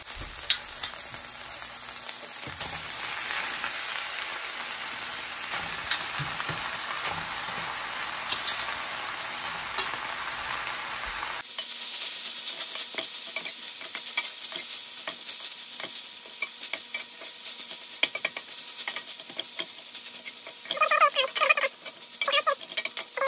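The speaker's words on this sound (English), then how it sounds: "now we're gonna go ahead and add in our bean curd" Bean curd for vegan chitterlings frying in a pan, a loud, steady sizzle that runs close and continuous, shifting partway through as the food is stirred, with no speech.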